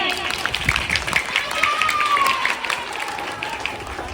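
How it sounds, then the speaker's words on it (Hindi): Audience applause for a student walking onstage at a school reading campaign event, steady dense clapping from a crowd throughout, with a voice speaking over it. "उनके लिए ताली बजाइए। तालियों की गूंज सुनाई देनी चाहिए।"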